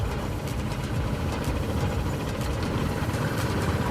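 A Maruti 800 car engine runs steadily at idle, a dense low rumble with constant vibration throughout, close and fairly loud, with no voices.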